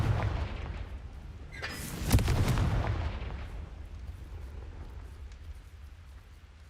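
A Confringo fire spell from Hogwarts Legacy bursts with a single heavy, booming blast, rumbling briefly before fading into low game ambience.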